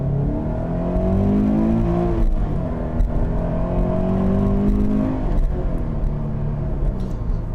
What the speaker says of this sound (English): I know a lot of you are probably most interested in what this thing sounds like under acceleration.